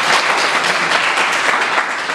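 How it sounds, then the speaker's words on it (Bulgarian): Steady, dense applause from an audience at a youth vigil in Kyustendil, loud and continuous clapping from many hands with no break. "тези хора тук нещо много ръкопляскат това"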